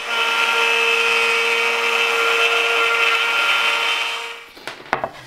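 A router cuts a sliding dovetail in wood using a Leigh DR4 Pro jig, giving a loud, steady high whine with a constant tone that winds down near the end, followed by a few handling knocks.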